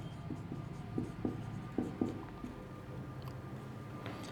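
Writing physics lecture notes on a board, with a handful of brief scratching strokes and light taps in quick bursts, close and fairly quiet, no talking over it.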